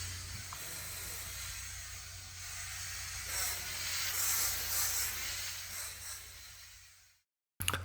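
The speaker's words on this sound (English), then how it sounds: "We started recording a small portable camping stove, initially only with the gas valve on without any fire." A small portable camping stove with its gas valve open and unlit gives a steady, fairly loud hiss of escaping gas that swells slightly midway, then cuts off abruptly before a short burst of noise at the end.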